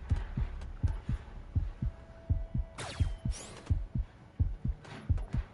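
A loud heartbeat thumps in the horror video game Dead by Daylight, with steady double beats running throughout, joined by brief whooshing game effects.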